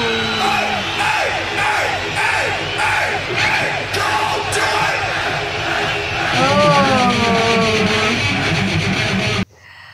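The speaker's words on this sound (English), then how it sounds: "This crowd always amazes me, so much enthusiasm, that's crazy." A huge concert crowd in Moscow at a heavy metal show roars and yells in sustained, dense waves of whoops and shouts. Occasional louder swells rise out of it before the noise abruptly cuts off near the end.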